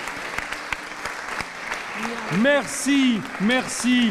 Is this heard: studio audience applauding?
yes